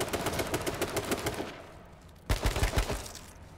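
Video game gunfire crackles in a fast, loud burst of rapid shots, fades for a moment, then returns as a few heavier, booming shots.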